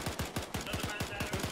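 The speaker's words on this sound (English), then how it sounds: "He's just shooting through the fucking wall." Rapid bursts of gunfire from a milsim game, a steady string of sharp close shots about every fifth of a second, loud and continuous like a machine gun through the whole stretch.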